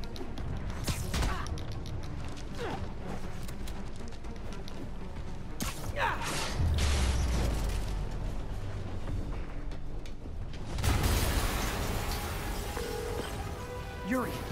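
A loud explosion in the video game Marvel's Spider-Man, with several heavy crashing bursts and rumbling debris spread over the scene, mixed with game noise and voices.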